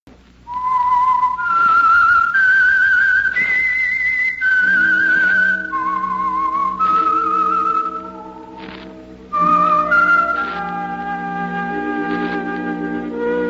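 A lone whistled theme tune from the radio drama The Whistler, clear and close, gliding between sustained notes before an orchestral accompaniment joins in under it.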